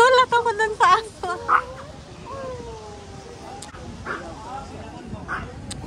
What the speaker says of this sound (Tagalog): Nagulat ako dun sa aso.